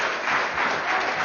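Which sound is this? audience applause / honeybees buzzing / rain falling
audience applause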